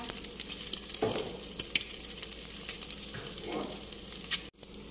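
An egg fries with garlic and fish sauce in a pan, giving a dense, close sizzle with spattering crackles and occasional louder pops and stirring sounds, ending in an abrupt cut, no voices.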